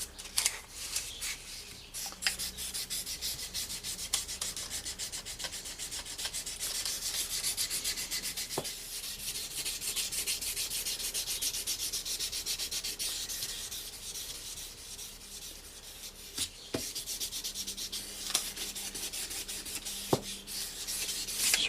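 Sandpaper wrapped on a dowel rod rubbing along the curved handle of a fillet knife, a close, soft scratchy rasp continuing in long strokes with a few brief clicks and pauses.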